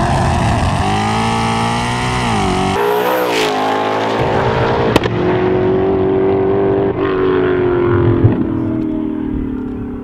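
A 2020 Shelby GT500 launches from a roll with anti-lag, its engine roaring loud and close as it climbs through the revs, with sharp pops and a brief gearshift dip before pulling hard again.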